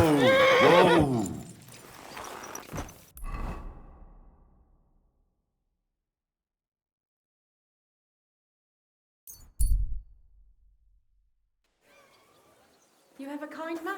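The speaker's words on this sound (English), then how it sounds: "Easy, good horse." A horse in the medieval video game Kingdom Come Deliverance 2 gives a loud, close whinny, followed by hoof thuds and snorts with long quiet gaps between them, and faint voices near the end.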